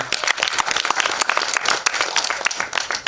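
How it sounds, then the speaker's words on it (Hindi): An audience at a film trailer launch event gives loud, dense applause, many hands clapping rapidly and continuously close by, with little speech. "तो फिर से जोरदार तालियां।"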